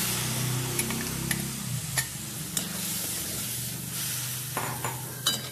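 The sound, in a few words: ghevda beans added to frying masala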